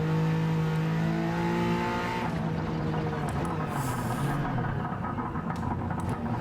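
A Peugeot 2008 three-cylinder engine in Gran Turismo 7 revs at full throttle, pitch rising steadily, then shifts into a rougher, busier drone with tire noise, loud and close with no talk.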